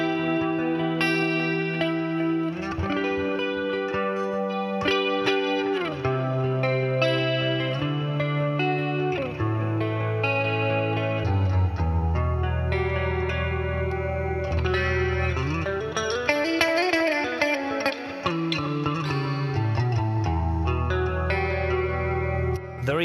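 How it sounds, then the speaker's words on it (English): Electric guitar played through chorus, reverb and delay on a Boss Katana MKII EX amp, a shimmering, echoing phrase of sustained notes and chords that rings on continuously and loudly with no talking. "There is a chorus, a reverb, and a delay."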